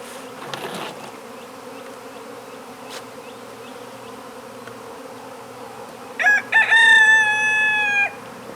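Bees buzz in a steady, low, droning hum during an early-morning exotic bee venom treatment session, and a rooster crows loudly for a couple of seconds near the end. Nobody speaks.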